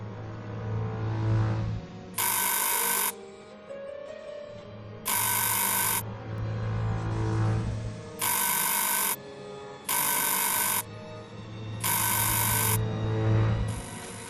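Call bell in the Murder on the Orient Express video game, ringing in five loud sustained bursts of about a second each, separated by short pauses, over a low steady train-carriage hum.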